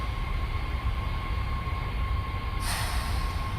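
A train runs in Train Simulator as a steady, loud rail rumble with a constant whine, and a brighter hiss swells in near the end. No one speaks.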